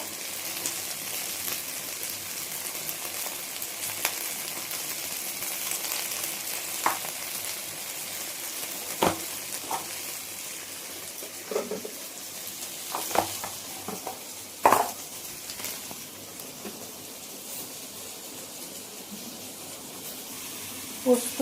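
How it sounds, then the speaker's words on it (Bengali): Okra fries in a pan for Bengali dhenrosh posto, giving a constant moderate sizzle broken by sharp clicks and scrapes as a spatula stirs it. "ঢেঁড়সটা ভাজা হয়ে এসেছে"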